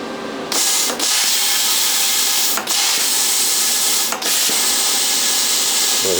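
Cutter piercing a hole through a frying pan: a loud, steady, harsh hissing blast that runs continuously, broken by a few very brief dropouts.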